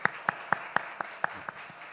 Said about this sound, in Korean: 교수님, 우리 나오실 때 박수로 환영하겠습니다.